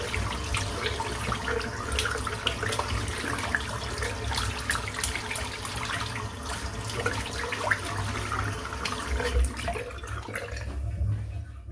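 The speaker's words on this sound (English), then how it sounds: "I need to rinse it out again because there's so much soap in there" Tap water running steadily while soap is rinsed out of a dense shaving brush, a close, continuous splashing flow that stops just at the end.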